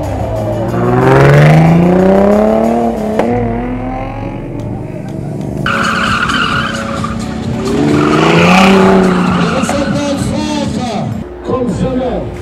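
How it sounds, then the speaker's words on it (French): Car engines rev hard with rising and falling pitch while tires squeal through drifts at a drift competition, loud and close, with a brief lull and voices in between. "le bruit des moteurs, le ronflement, les drifts, les pneus"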